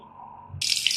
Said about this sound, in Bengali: আপনারা ছিলাইয়া তারপরে এইভাবে আস্তে রেখে ধুইবেন